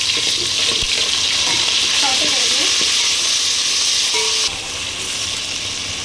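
Continuous hiss of ginger garlic paste frying in hot oil with browned onions, with faint stirring clinks; the sizzle drops slightly in level near the end.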